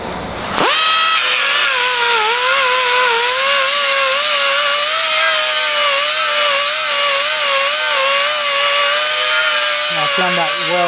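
A grinder fitted with an 80 grit roll lock sanding disc smooths down a weld on sheet metal, its loud, steady high whine starting abruptly and running continuously for about ten seconds with no voices.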